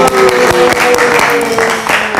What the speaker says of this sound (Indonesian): Wih, tepuk tangan dong.